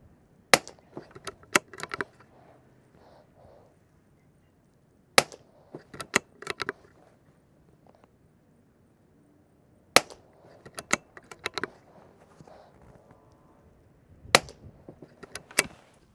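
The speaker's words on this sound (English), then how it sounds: "We got 5 more loaded up in the magazine. We're gonna put down range." A CZ 455 Trainer rimfire rifle fires shots downrange outdoors, four sharp reports spaced several seconds apart, each followed by a short cluster of clicks and handling noise from the action, with no speech.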